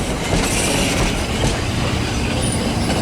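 A British Rail Class 465 electric train at a London terminus gives a continuous loud rumble and rattle of wheels on track, with a faint high squeal near the end, heard up close and steady.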